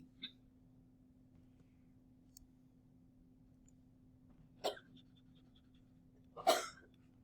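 A sharp sneeze bursts out near the end after a smaller one a couple of seconds earlier, with a faint snort at the start and quiet hum between.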